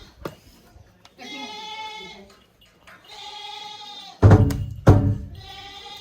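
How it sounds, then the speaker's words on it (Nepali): Two goats bleat in a village courtyard, with several drawn-out nasal calls separated by pauses, close and fairly loud, and a person talks between the calls. "दुईटा बाख्रा यता भेडा होइन"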